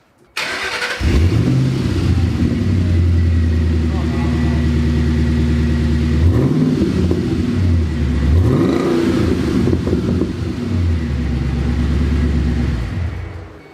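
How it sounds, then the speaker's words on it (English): A 2005 Mustang GT engine starts on its stock exhaust and settles into a deep, loud rumble, with a couple of revs swelling the burble before it steadies again. "This is the normal exhaust."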